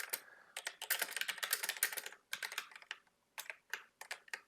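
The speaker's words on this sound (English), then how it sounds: "you start just typing away" Fingers type rapidly on a computer keyboard in quick irregular bursts of crisp clicks, separated by brief pauses, close and fairly quiet with no voices.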